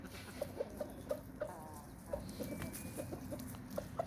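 Rooster and hens of an American Osaka breed clucking in a coop, soft scattered clucks and short calls repeating at a distance over a quiet background.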